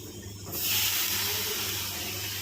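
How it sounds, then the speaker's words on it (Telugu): Chopped tomatoes drop into hot oil in a pan already holding carrot for a drumstick curry, setting off a sudden loud, steady sizzle that starts half a second in and hisses on evenly, close by. "ఇప్పుడైతే టమాటా కూడా వేస్తున్నాను ఫ్రెండ్స్"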